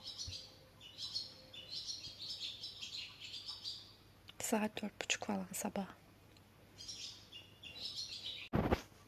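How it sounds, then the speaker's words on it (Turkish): Several birds chirp and trill repeatedly in the background outdoors at dawn, while a person whispers quietly nearby. "asıl bu videoyu arka fondaki öten kuş için açtım"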